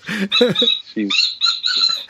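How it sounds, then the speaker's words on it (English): A dog works a squeaky toy in its mouth, giving high, piercing squeaks in quick uneven bursts, loud and close, broken by brief chewing sounds. "She's got a squeaky toy and she won't stop chewing on it."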